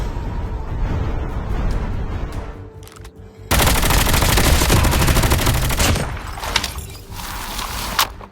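Rapid automatic gunfire in a Call of Duty Mobile battle royale match, loud and sustained, with bursts from several weapons overlapping, growing denser partway through and easing slightly near the end.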